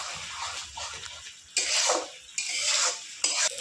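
Spices mixed with fresh red chilli paste are stirred and sautéed in a pan. A spatula scrapes and clatters in repeated strokes over a steady close sizzle, with louder bursts of scraping partway through.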